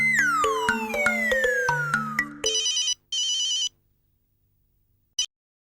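An electronic telephone ringtone in an Indian sitcom home scene trills in two close bursts after a falling musical sweep, then gives one brief final blip before silence, with no talking.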